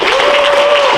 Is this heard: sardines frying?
no